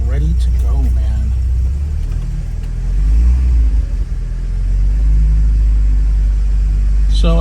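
A 1986 Porsche 944 on a test drive, a loud, steady low engine rumble and road drone from inside the cabin, swelling briefly as it pulls away, with a voice talking over it.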